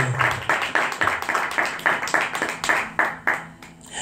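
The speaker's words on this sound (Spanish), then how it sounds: "A ustedes un fuerte aplauso" An audience in a church claps in a steady, rhythmic beat, each clap a distinct burst at a fairly quick pace, moderately loud and without much talk over it.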